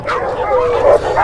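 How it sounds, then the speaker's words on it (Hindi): Gultair dogs fight up close in Kohat, with loud, continuous barking mixed with high yelps and whimpers. "ये अभी लड़ाई हुई है कुत्ते ने, एक कुत्ते को पकड़ा है लेकिन बहुत डेंजर तरीके से, वो गुलटेर था"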